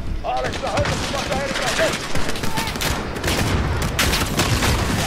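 Heavy gunfire in Call of Duty Modern Warfare, a dense, continuous volley of rapid shots and explosions during a hard mission, loud and relentless with chaotic battle noise layered throughout.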